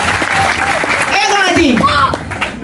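Audience applause for a performer named Sanjaya at a gathering at Pura Penataran, a steady wash of clapping with a chuckle and voices mixed in, close and loud throughout.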